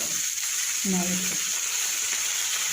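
Chowmein tossed with chili and other sauces in a frying pan, a steady close sizzle with soft scraping of stirring, brief tonal clink midway.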